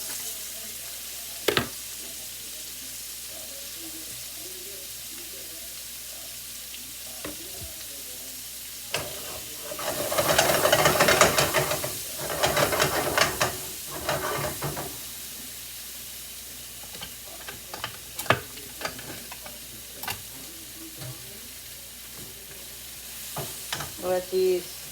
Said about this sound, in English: Let these saute a minute, and then I'll put the mushrooms in.